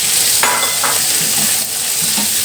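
Pieces of chicken fry in a hot pan for a white sauce pasta, a close, even sizzle with a few scraping strokes of a spoon stirring them.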